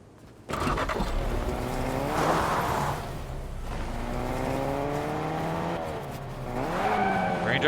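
A car engine revs and drives in the video game Fortnite, rising and falling in pitch with a rough, close hum and tyre noise, while commentators talk over it.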